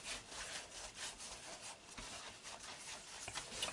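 A strand of pretzel dough rolled out by hand on a board gives a steady, close, dry rubbing and swishing that pulses with each back-and-forth stroke, with no talking.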